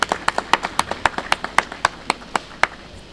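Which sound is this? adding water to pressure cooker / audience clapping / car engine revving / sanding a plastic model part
audience clapping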